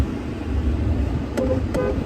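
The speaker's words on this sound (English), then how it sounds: "I just had to honk for him because he was going to the entirely wrong truck" Two short car horn toots about a third of a second apart, sounding over steady parking-lot traffic rumble, fairly close and moderately loud.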